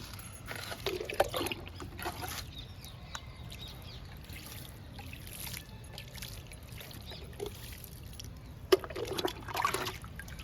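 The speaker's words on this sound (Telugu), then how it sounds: "ఇంకా వాటర్ ఇద్దామండి బీర మొక్కకి." Water is poured onto a ridge gourd plant growing in a tub of soil. Soft, quiet trickling and splashing come in a few close, intermittent bursts, with no talk.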